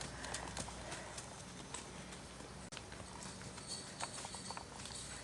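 Hooves of a horse clip-clop steadily on the ground during cow work in a pen, faint and somewhat distant against outdoor background noise.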